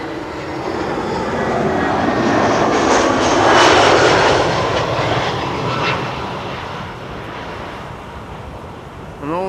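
A Vueling airliner inbound from Palma de Mallorca roars in to land on a Schiphol runway, its jet engines swelling loud and close, then fading as it passes, with wind noise throughout.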